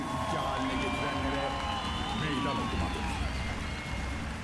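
A crowd at a political rally in Akşehir, Konya, applauds and cheers in a continuous loud roar of clapping, shouts and whistles that fills the space without a break.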